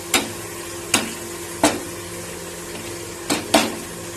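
Eggplant pieces dropped one at a time into a hot pan with coriander leaves, a steady low sizzle broken by five sharp bursts of spitting as each piece hits the oil.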